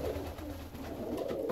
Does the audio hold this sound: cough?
no